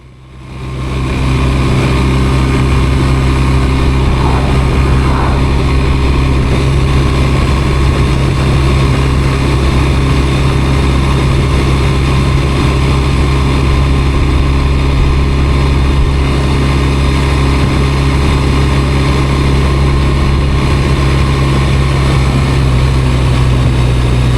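Loud, continuous motorcycle engine drone with steady low hum and wind rush, recorded close up while riding at constant speed to Dante's View in Death Valley.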